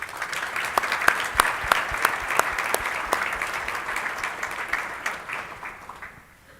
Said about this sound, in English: So if you would give a round of applause.